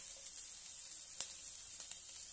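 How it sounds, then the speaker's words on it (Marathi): Cashews and garlic cloves sautéing in a pan, a faint steady sizzle with a few light crackles and pops, with no voices. "4-5 काजू घेतलेले आहेत ते घालूया। छानपैकी परतून घेऊया।"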